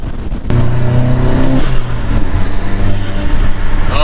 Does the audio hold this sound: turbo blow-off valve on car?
yes